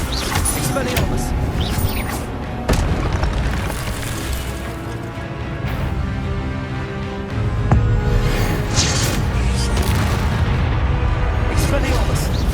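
Repeated Expelliarmus spell blasts in the Hogwarts Legacy video game, loud booming bursts layered over a continuous dense battle din with sharp hits recurring throughout.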